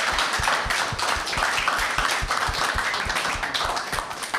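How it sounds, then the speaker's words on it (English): Live show audience clapping together at a D&D podcast night, dense and steady throughout with sharp overlapping claps filling the room. "So give yourselves a big clap for that, for being here."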